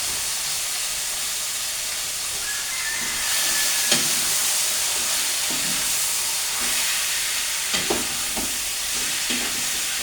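Curry chicken fries in a pot and is stirred, giving a continuous loud hiss and sizzle with soft scraping and clicking from the utensil toward the end.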